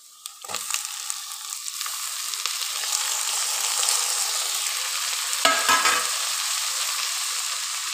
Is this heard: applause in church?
no